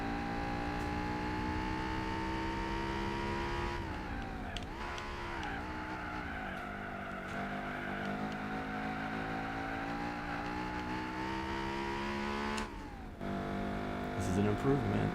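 A car engine in Gran Turismo 4 revs high and steady, its pitch rising and falling under a tyre skid, while a person talks over the droning motor.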